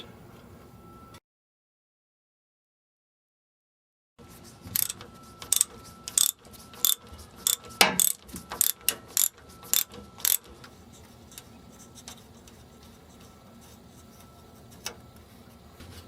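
A ratchet loosens a brake line nut on a 1998 Dodge Ram 1500, with a run of sharp, close clicks in quick bursts, then sparse ticks after a short silence.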